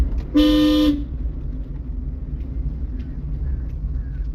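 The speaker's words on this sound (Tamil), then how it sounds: "ஹார்ன் அடிக்கணுமா?" A single loud car horn honk, about half a second long, sounds close by, followed by steady engine rumble inside a vehicle.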